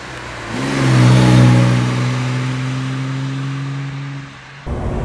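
A 1957 Lancia Aurelia B24 S convertible's engine pulls with a steady, sporty mid-pitched drone that swells and then holds, close and clear, ending with an abrupt change near the end.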